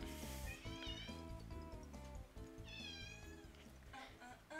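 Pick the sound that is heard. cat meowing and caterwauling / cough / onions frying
cat meowing and caterwauling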